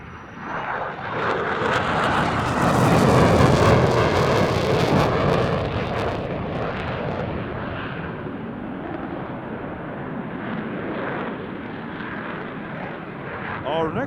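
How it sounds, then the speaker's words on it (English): A Solo Turk F-16C fighter jet flies a display at the Royal International Air Tattoo: a loud, roaring jet pass builds and peaks, then eases into a sustained engine rumble, with a voice talking over it. "F-16C from the acclaimed Solo Turk demo team."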